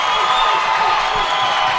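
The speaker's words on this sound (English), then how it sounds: "The crowd's on its feet." A girls' high school basketball crowd on its feet roars and cheers, a dense, loud, continuous wash of shouting and whoops close around, with scattered claps buried in the din.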